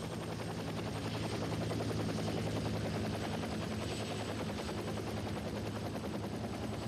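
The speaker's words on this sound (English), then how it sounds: "Man, that chopper's flying mighty low." A helicopter passes low overhead, its steady rotor chop and engine roar loud and continuous throughout with no talk.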